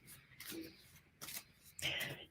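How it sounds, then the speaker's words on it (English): A deck of tarot cards is shuffled by hand in three quick, soft riffling bursts, quiet and close, with faint low murmuring underneath. "just when I go into shuffle for you"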